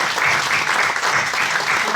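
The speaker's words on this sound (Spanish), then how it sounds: "podemos darle un gran aplauso por la interesantísima intervención" Steady applause from a crowd after a talk, dense continuous clapping filling the whole stretch with no pauses.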